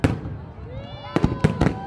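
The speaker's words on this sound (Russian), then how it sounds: "а завершился праздник красочным фейерверком" Colorful fireworks at a city festival celebrating the birthday of Kyzyl: a few loud booming bursts, mostly in a quick cluster toward the end, with faint crackle and whistling between them.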